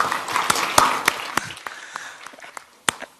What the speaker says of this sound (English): could you join me in a round of applause?